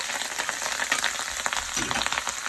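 Minced mutton keema fries in a pan with turmeric. The close sizzle crackles in uneven bursts, with some stirring scrapes mixed in and no voices.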